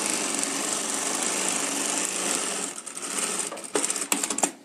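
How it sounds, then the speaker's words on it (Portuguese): A sewing machine stitches a seam down the middle of fabric, running in a fast steady whir at first, then slowing into uneven bursts and clicks as it stops. "Agora eu vou vir e vou bater uma costura aqui nesse meio."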